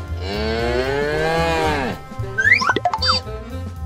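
A cow gives one long, loud moo lasting about two seconds, followed by a few short, bouncy bursts of other sounds.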